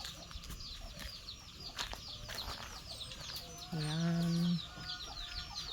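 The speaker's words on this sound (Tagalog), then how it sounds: "Mga huni lang ng sisiw ang naririnig." Many chicks chirp in rapid, high peeps throughout, with a brief low voice and a short clucking call from a hen partway through.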